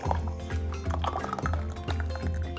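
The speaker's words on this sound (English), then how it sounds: "Okay, it's time to pour the lemon." Lemon juice poured into a pot of chokeberry (aronia) jam, a close liquid splashing and gurgling with repeated soft pulses, steady and fairly loud.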